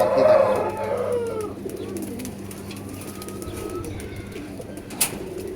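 An old pigeon coos close by, a low throaty call at the start fading into soft ambient noise, with a brief sharp knock near the end.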